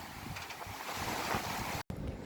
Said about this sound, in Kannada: ಬ್ರಿಡ್ಜ್ ಮೇಲೆ ಹರಿತಾ ಇದೆ ಇವತ್ತು ಕಾವೇರಿ